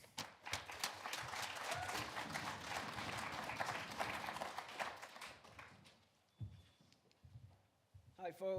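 Audience applause greets a guest faculty lecturer, a dense steady clapping lasting about five seconds before fading out, followed by quieter moments and a voice beginning to speak.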